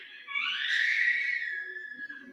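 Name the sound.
child screaming while play fighting upstairs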